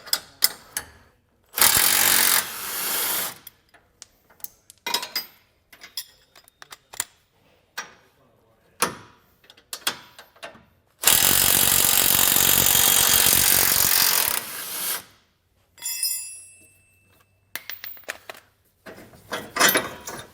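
Bolts being removed with an 18 mm socket wrench while fitting a Roadmaster Direct-Connect base plate kit on a 2019 vehicle: bursts of ratcheting and clicking tool noise, including one long steady run of several seconds, separated by short pauses.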